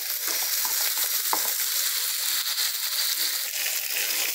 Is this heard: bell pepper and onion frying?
yes